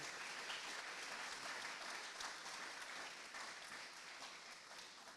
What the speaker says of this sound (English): give them all a round of applause for being up here and running in this election